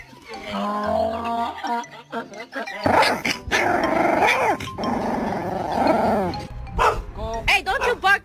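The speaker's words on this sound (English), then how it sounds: "don't you bark at me" A dog growls and barks in short bursts close by, mixed with loud, busy talk from people nearby.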